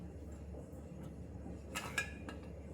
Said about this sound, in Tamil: குக்கர் மூடி வச்சுட்டு வரேன்.